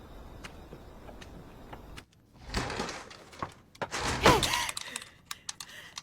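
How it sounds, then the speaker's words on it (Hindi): A door opens in a Hindi-dubbed horror anime, with a burst of creaking, rattling noise after a quiet stretch, then scattered knocks and clatter, fairly near. "रुको, मैं दरवाजा खोलती हूँ।"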